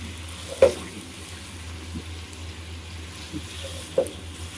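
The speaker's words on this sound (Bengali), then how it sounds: "তাপটা হালকা কমিয়ে দিব একটু ভাজা ভাজা করব" Beef for a Peshawari-style dish sears in a pan over lowered heat, a faint steady sizzle with a few soft clinks of stirring and turning.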